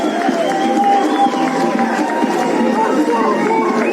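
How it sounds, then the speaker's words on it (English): Stadium crowd at Hive Stadium cheers and applauds as USA supporters rise for a counter-attacking try in a World Rugby U20 Trophy match against the Netherlands; a steady, dense roar of voices and clapping runs throughout with a voice faintly over it. "USA, much to the delight of their support here at Hive Stadium, rise to their feet to applaud a great counter-attacking try."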